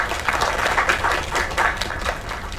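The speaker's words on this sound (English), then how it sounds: "Another round of applause." A crowd's applause in a game scene after a singer finishes, a dense even patter of clapping that swells and fades over a couple of seconds with no talk.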